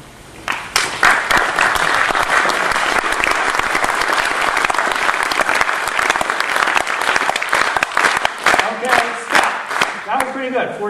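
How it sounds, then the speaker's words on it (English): An audience claps together in a steady shared rhythm for several seconds, loud and dense, with the clapping loosening into scattered claps toward the end. "every group claps at a different rhythm"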